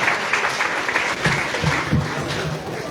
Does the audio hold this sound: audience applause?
yes